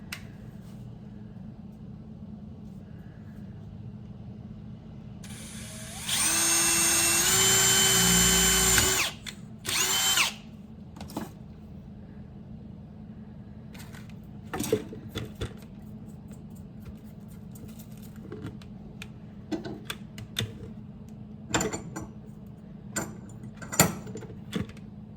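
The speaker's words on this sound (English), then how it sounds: "Now for these, I'm going to be using a regular 1/4 inch drill bit." A power drill with a regular 1/4 inch bit bores into 80/20 10 series aluminum framing inside a Sprinter van: one loud, whining burst of about three seconds, a short follow-up spin, then scattered clicks and handling knocks.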